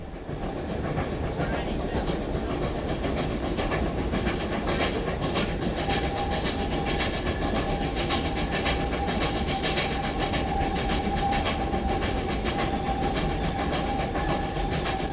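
Rio Grande narrow gauge steam locomotive number 487 on the Durango to Alamosa run, a loud continuous rumble of rolling cars and rhythmic clatter with a faint steady tone, close and sustained throughout.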